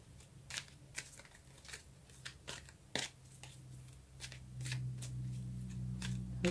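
Tarot cards riffled and shuffled in a series of crisp, quick bursts, each flurry of papery flicks separated by short pauses, close and fairly quiet over a low steady hum.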